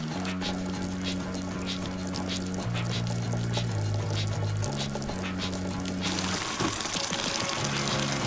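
Water from a village well or pipe in spring is pumped out and flows steadily, with a constant rushing and splashing under a low mechanical hum that shifts pitch now and then.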